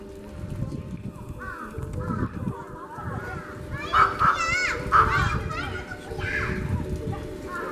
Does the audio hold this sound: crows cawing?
yes